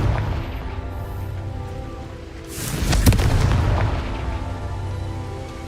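A Confringo fire spell blasts in a video game, landing as one deep booming explosion that swells and peaks mid-way before fading back into a steady rumbling ambience.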